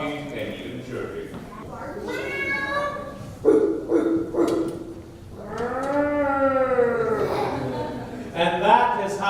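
Voices imitate a little dragon meowing, barking and chirping, with playful vocal yips and drawn-out cries alternating with speech-like sounds.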